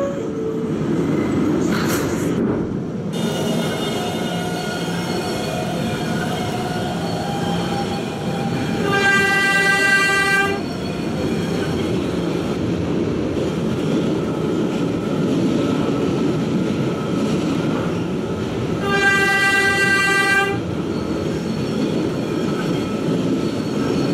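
Roblox subway express train running in a video game, a steady rumbling rail drone with two loud horn blasts spaced apart, no talk.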